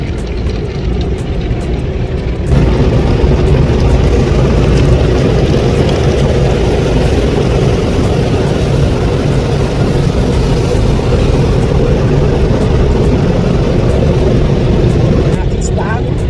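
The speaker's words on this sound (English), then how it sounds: "Our car is being shampooed." A Petro Canada automated car wash works over a car, heard from inside: after a quieter start, a loud, steady rushing roar of spray and machinery begins and holds for the rest of the clip.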